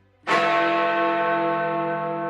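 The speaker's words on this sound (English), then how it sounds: "these quarter bells are followed by the hammer strike on the largest bell" A single hammer strike on Big Ben, the great hour bell in London's Elizabeth Tower, rings out loud and close with a sharp attack, then a rich, humming tone that decays slowly.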